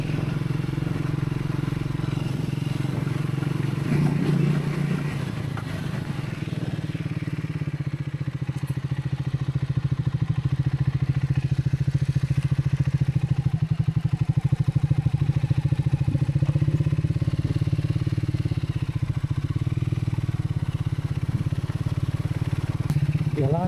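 A motorcycle ridden alone along a forest road at night on the way out from Gaganachukki Waterfalls, its engine droning steadily and close throughout with a rattling clatter riding on top and no break in the sound.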